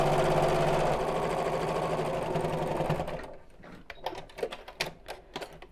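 A sewing machine stitches the seam of a small Biscornu zipped pouch, running loud and fast for about three seconds before stopping, followed by soft clicks and handling noises.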